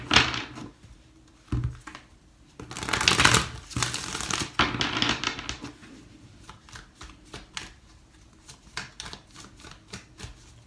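Tarot cards shuffled by hand in three rounds: bursts of papery riffling and soft flapping, with sharp taps and thumps between them, close and fairly loud.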